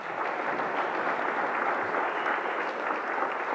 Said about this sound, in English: One more round of applause for our Hall of Famers.